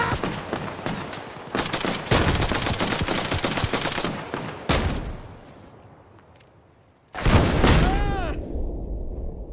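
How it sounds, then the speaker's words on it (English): Arma Reforger game combat with loud bursts of close automatic gunfire and heavy frag grenade explosions, a quieter lull between them, and then another sharp blast with crackling debris. "He threw a frag grenade. He threw multiple frag grenades."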